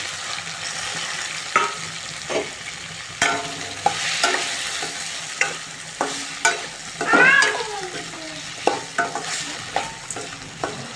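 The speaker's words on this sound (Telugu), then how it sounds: "టమాటాలు వేసుకున్నాక బాగా కలుపుకోండి" Tomatoes are stirred in a cooking pan for a green peas curry, with repeated sharp spatula scrapes and clacks at an irregular rhythm over a low frying sizzle, close and with no talk.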